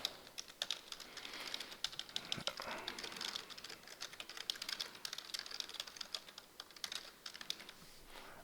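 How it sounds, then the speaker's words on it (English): Quiet, continuous typing on a computer keyboard, with rapid irregular key clicks running throughout at close range and no speech. "and type a quick message"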